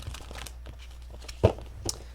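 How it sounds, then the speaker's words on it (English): A deck of tarot cards is shuffled by hand: soft, scattered papery rustles and light flicks at an uneven rhythm, with one sharper snap midway, close and quiet, with no speech. "let's do 2 shuffles"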